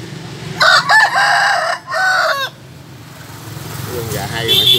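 A rooster crows loudly and close by in one long strained call broken into a few bursts, followed by quieter background noise and someone speaking.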